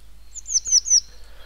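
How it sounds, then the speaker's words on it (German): A blue tit sings in a garden or riverside setting, giving a quick run of three or four clear, high chirping notes close by against a quiet background. "Da ist unser beliebter Gartenvogel, die Blaumeise, schon bekannter."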